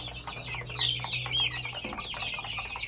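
Young gamecock rooster, a one-month-old battle cross of white kelso breeding, clucking close by in a short burst of soft clucks over a low farm background hum.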